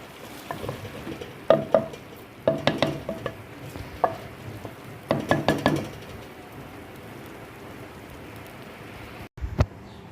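Keema matar is stirred in a pan: loud clustered knocks and scrapes of a spoon against the metal come in short bursts, separated by quieter gaps, with one final clatter near the end.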